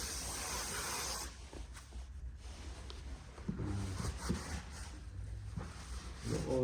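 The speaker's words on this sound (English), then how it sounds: "There again, brake cleaner." Brake cleaner sprays in a home garage while oil is changed on a BMW R NineT Racer motorcycle: a loud, close, broadband hiss lasting about a second, then quieter shop rumble with faint handling noises.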